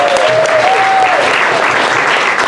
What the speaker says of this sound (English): let's give Bobby a big round of applause